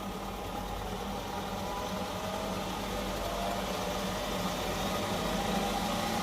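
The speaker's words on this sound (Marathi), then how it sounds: "1000 RPM वरती येऊन ड्रम त्याच स्पीडला येऊन फिरत राहतो" A Haier HW80-IM12929EBK washing machine drum spins steadily at 1000 RPM in test mode, giving a continuous, even motor hum and whirr that holds constant and fairly loud throughout, with no voices.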